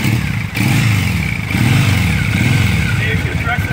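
A 2016 Triumph Thruxton 900 motorcycle in Brooksland Green starts up and settles into a loud, steady idle close by, with a brief dip near the start.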